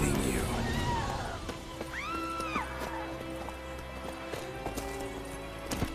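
Roach, the horse in The Witcher 3, gallops with quick rhythmic hoofbeats and lets out a clear whinny early on, while someone talks over the pounding hooves.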